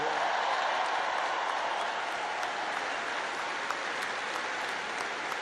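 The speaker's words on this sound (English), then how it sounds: "let's give a big round of applause to the leaders of this state who chose liberty over lockdowns" A large audience applauds at a University of Alabama speech, with dense, sustained clapping from the crowd that holds at an even level for several seconds.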